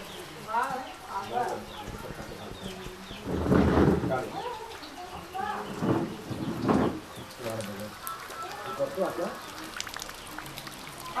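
Rain falls in a village as a steady soft hiss, heard under people talking nearby.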